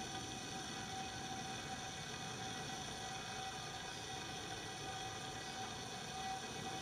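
Faint, distant rail noise from a passing train carries as a steady low rumble and hum, continuous and unbroken across the stretch, with no voices.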